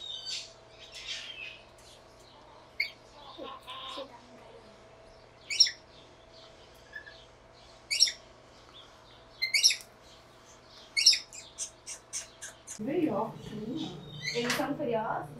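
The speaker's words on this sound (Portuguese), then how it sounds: "Estou alimentando um pássaro, gente." Small bird at a zoo chirping in short, scattered high tweets while it is hand-fed by a keeper, with quiet voices and a low steady hum beneath and a burst of louder chatter near the end.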